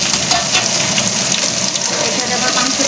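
Chopped onions frying in hot oil with bay leaves and cinnamon for an egg curry, a steady loud sizzle and hiss filling the whole stretch with no talk over it.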